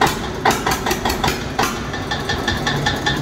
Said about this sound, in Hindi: ट्रैक्टर की और आवाज़ शुरू हुआ देखो जी क्या है हल्की सी रहती है